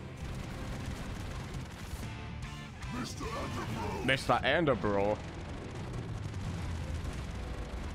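Rumbling explosions and rapid gunfire from the run-and-gun game Broforce, a continuous dense barrage of blasts and shots with a short spoken line and game voice cutting through the middle.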